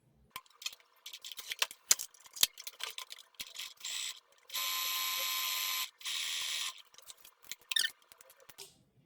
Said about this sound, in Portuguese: eu vou bater uma costura de 1 centímetro aqui